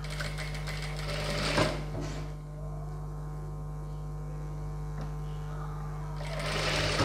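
Sewing machine stitching along the canvas edge of a chudidhar top, a steady close mechanical whir running continuously, with a slight dip in pace midway and no talking.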